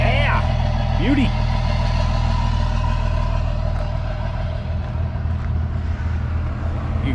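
A bus engine idles steadily through a 6-inch exhaust, a loud, close, low rumble throughout, with a brief higher whine early on and a voice speaking over it.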